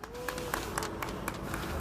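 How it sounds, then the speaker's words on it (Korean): Brief, faint applause from an audience at a political rally, with quick, evenly spaced claps heard from a distance. "뜨거운 박수 부탁드리겠습니다"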